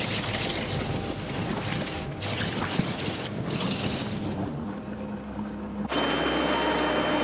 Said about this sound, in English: That annoying buzzing noise you're hearing is somebody needing to oil their chains